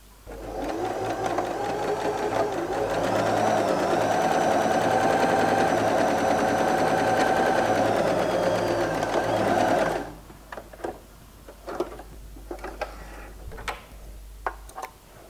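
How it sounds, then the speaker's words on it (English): A domestic sewing machine runs a zigzag stitch with conductive thread, giving a fast, steady mechanical whir and rapid ticking for about ten seconds before stopping, followed by soft handling clicks and fabric rustle. "just like other types of sewing machines, I can also do a zigzag stitch or any other stitches that your machine might have"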